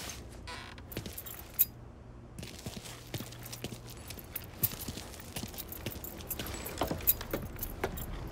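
Car keys jangling in the Mafia III video game, light metallic clinks scattered across the clip among soft footsteps and faint street ambience, no talking.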